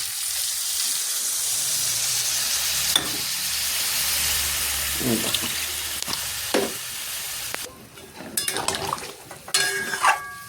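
Water poured into a pan of sautéing cauliflower curry, a loud steady sizzle and hiss that drops away near the end into scattered clinks and scrapes of a utensil against the pan.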